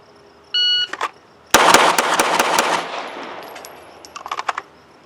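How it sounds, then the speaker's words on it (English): Pistol fired in a rapid string during a shooting drill at an outdoor range, a shot timer beep first, then a fast burst of sharp cracks followed by a few more quick shots. "try to smooth out that cadence of fire and keep our recoil control together while maintaining A-zone hits"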